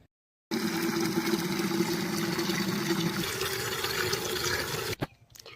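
Tap water running steadily over bunches of fresh coriander leaves being washed by hand, a continuous close rushing splash lasting about four seconds before cutting off abruptly.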